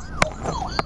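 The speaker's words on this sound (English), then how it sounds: "you hear the siren?" A wailing siren in a movie scene rises and falls in a clear sweep, with short loud bursts of other noise near the start and end.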